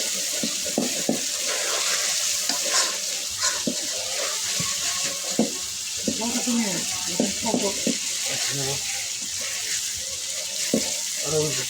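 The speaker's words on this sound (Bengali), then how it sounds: "আমি মাংসটা এখন ভেজে নিচ্ছি।" Meat fries in a pan with a continuous hissing sizzle, accompanied by intermittent clinks and scrapes and faint voice-like sounds in the background.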